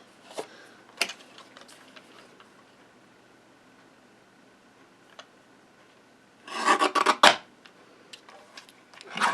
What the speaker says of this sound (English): I'll go ahead and trim it off the top here